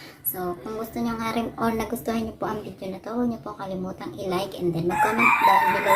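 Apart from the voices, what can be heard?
rooster crowing at dawn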